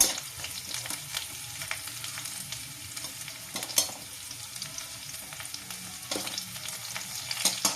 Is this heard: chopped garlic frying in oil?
yes